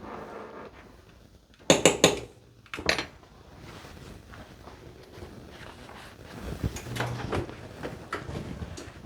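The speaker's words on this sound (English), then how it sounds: "So we're going to pop that back in the oven for another 10 minutes." A casserole pan of oven-baked chicken stew goes back into the oven with a couple of sharp metallic clanks and scrapes of the pan and rack, followed by quieter kitchen handling noises and soft rustling.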